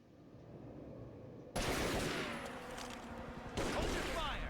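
Heavy gunfire in Tomb Raider Legend erupts abruptly into a dense, continuous rattle of rapid shots, eases slightly, then surges again in a fresh burst near the end.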